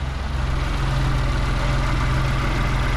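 A Daihatsu Mira turbo engine with a newly installed alternator idles steadily, a close, constant low rumble with an even pulsing throughout and no other sounds.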